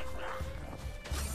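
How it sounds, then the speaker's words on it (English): Dogs bark and yip in a short burst during combat in the video game God of War Ragnarök, loud and close amid game effects. "Yo, these dogs."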